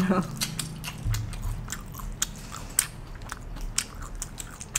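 Someone bites and chews battered fried banana filled with stretchy cheese, soft crunchy bites and mouth sounds repeating close to the mic, with a quiet voice at the start.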